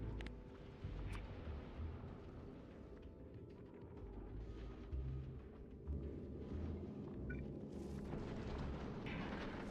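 Rocket turrets firing in Factorio, with explosions going off, a dense stream of low booming blasts rolling on over a steady rumble, somewhat distant and continuous, with no voices.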